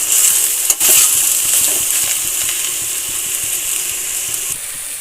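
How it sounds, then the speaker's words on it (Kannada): Bitter gourd pieces frying in oil in a pan, a steady broad hiss of sizzling that runs continuously close by, with one brief knock or stir near the start and no talking. "ಹಾಗಲಕಾಯಿ ನಾವು ಎಷ್ಟು ಹುರ್ಕೊಂತೀವ ಎಣ್ಣೆಯಲ್ಲಿ ಅಷ್ಟು ಚೆನ್ನಾಗಿ"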